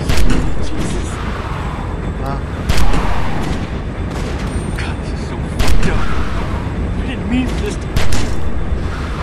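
Gunfire in The Walking Dead 400 Days game, Wyatt's episode, with several heavy booming shots spaced through the clip over steady vehicle rumble while voices shout.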